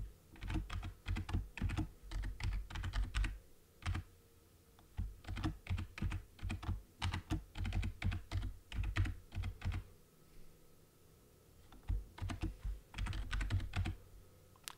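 Steady typing on a computer keyboard while entering C++ code, bursts of quick key clicks separated by short pauses, close and clear with no voice.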